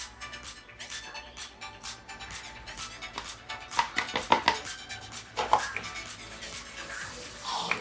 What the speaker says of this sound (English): So right now we are going to sieve our flour like we always do.